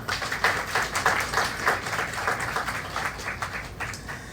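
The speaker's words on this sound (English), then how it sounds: "join me in giving them a round of applause at this time" High school students applaud at a ring ceremony, producing moderately distant, even clapping with a pulsing, slightly rhythmic quality that holds steady throughout.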